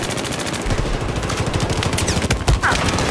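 Rapid gunfire in Battlefield 4 during a naval strike match, dense bursts of automatic shots and scattered single reports crackling continuously at loud volume, with no speech.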